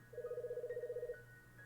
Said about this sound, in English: Ah, there goes the phone.